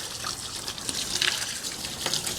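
Water gushes steadily over the sides of a tough cargo storage case meant for overlanding and camping, a continuous close spray hiss with brief surges and no talk.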